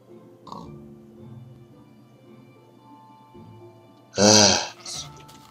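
Sheep in Minecraft bleating, a short faint call early on followed by a loud, close bleat near the end and a softer echo, over quiet background tones.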